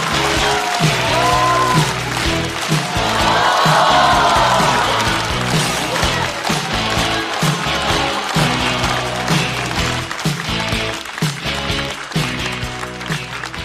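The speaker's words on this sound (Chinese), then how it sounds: "掌声欢迎 Harry！" A stand-up comedy audience applauds and cheers to welcome comedian Harry onstage, sustained clapping mixed with loud stage music and a thumping beat, with no speech.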